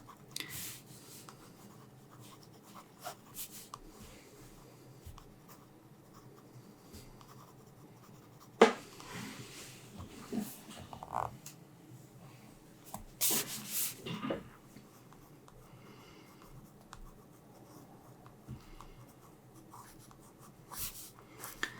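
Pencil scribbling loose lines across paper while sketching a deep-sea fantasy creature, a steady soft scratching and rubbing throughout with a few louder, sharper strokes, heard alone and close.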